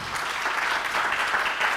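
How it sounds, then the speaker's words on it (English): An audience at a main-stage conference session at WITS University in Johannesburg gives a round of applause to speaker Jojo, a steady, even burst of many hands clapping together without talk. "a round of applause for Jojo"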